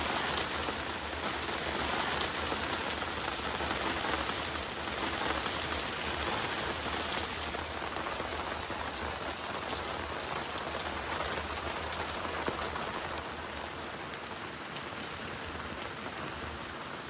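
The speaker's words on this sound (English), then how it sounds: "And they say rain is in the forecast. Let's just listen to it." Rain pours down on an RV campsite at Collins Lake, a constant, even hiss of drops on surfaces, moderately loud and unbroken, easing slightly near the end, with no talking.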